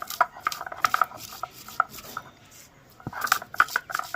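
Ginger, cumin and green chilli are ground into a paste, heard as bursts of close, gritty scraping and knocking strokes in uneven clusters, with a quieter pause in the middle.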